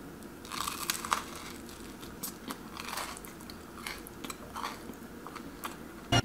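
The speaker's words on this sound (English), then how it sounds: "That was a crunch that should be heard around the whole world." Close, crisp crunching and chewing come from bites of Japanese curry-filled French toast, a run of sharp crackly bursts with a final loud crunch at the end.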